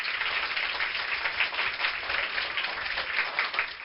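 Children at a summer camp prize distribution clap for their parents, a dense, steady crowd applause that stays loud for about four seconds with no one speaking.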